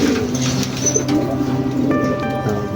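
Racing pigeons coo at a loft during a Buenavista smash race, a steady low burbling chorus of several birds close by, with a few higher chirps and a faint whistle over the top.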